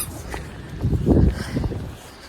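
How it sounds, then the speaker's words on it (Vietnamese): Strong wind blowing outdoors and stirring up dust, a rough roaring gust that swells in the middle and then eases off. "Gió mà thổi bụi bay cuộn lên."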